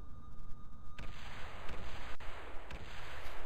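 A biplane in Kerbal Space Program tips onto its nose and breaks apart, giving loud rumbling crash bursts and booms over a steady engine-like drone, with several heavy impacts in quick succession.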